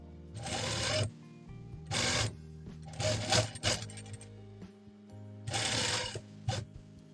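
A sewing machine runs in four bursts of about a second each, separated by short pauses, while top stitching a tube top. The whirring stitching is close and clear, with no talk over it.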